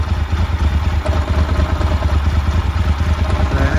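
A 1997 Ducati 916 with a dry clutch idles nearby, its engine giving a steady, fairly quiet low rumble with a light mechanical clatter running evenly underneath, and no voices over it.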